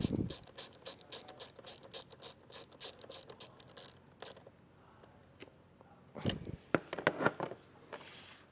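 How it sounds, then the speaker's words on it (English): A ratchet wrench tightens a nut down over a ring terminal while installing a stop light switch kit on a 2024 Jeep Grand Cherokee, giving a rapid run of crisp clicks, a pause, then a few more ratchet strokes nearby. "And get our nut tightened back down."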